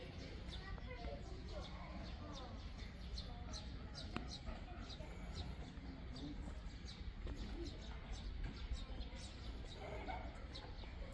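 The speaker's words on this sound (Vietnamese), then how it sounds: "Chim hót, hoa nở" Birds chirp and pigeons coo in a Beijing park at Beihai Park near the Nine-Dragon Wall, light scattered calls over a steady outdoor background with people talking.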